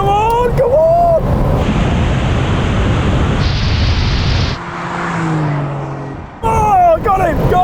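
A petrol Porsche 911 GTS in a drag race against an electric Porsche gives a loud, sustained roar that builds and fades over several seconds, with excited shouting just before and after.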